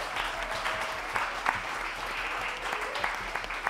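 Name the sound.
audience applause at a live concert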